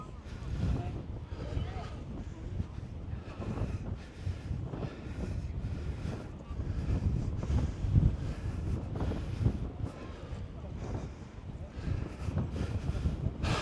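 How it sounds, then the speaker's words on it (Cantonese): Strong wind sweeping across the Tottori sand dunes in Japan, roaring and buffeting the microphone in uneven gusts throughout, with people talking faintly beneath it. "好大風啊！"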